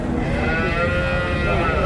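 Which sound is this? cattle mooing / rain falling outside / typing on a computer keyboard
cattle mooing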